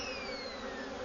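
Bees buzzing steadily in a Winnie the Pooh video game, a close, constant insect drone with a faint high whine over it.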